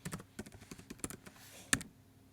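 An old password is typed on a computer keyboard as a short burst of quiet, close keystrokes, ending in one louder tap on a larger key.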